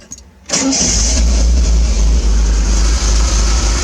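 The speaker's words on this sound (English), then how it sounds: "And then the last two, turn the engine over." A 1980 Triumph TR7 engine cranks and fires after a short quiet moment, then settles into a loud, steady idle close by, with no one speaking.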